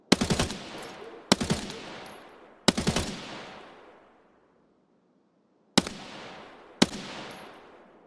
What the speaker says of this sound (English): Tarkov's guns by no means sound bad.